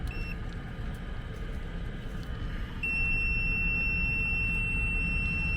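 Tesmen TCM 300D clamp meter in continuity mode sounding a sustained high-pitched beep that starts about midway and holds steadily to the end, close and clear over a constant low hum.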